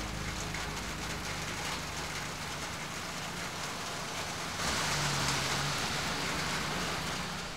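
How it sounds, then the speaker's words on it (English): Steady broadband hiss of rain falling, constant and fairly loud, with a low rumble underneath and a slight surge partway through. "a little rain provided a slight setback"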